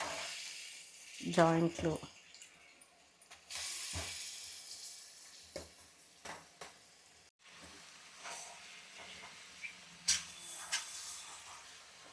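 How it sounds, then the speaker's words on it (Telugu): Washed chicken pieces dropped into a pan of fried onions in oil, bursts of hissing sizzle with clatter and stirring knocks, while someone talks over it. "ఇప్పుడు చికెన్, కడిగేసి పెట్టుకున్న చికెన్ వేసేసుకుందాం."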